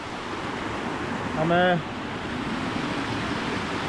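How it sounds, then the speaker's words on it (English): A small waterfall in the South Wales countryside flows as a steady, broad rush that fills the whole clip, with someone speaking briefly over it partway through. "making use of this small waterfall I've got here leading up to the bigger one at the back"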